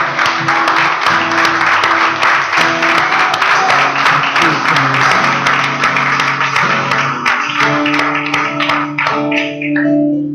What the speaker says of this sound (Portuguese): Dá uma salva de palmas para o nosso Deus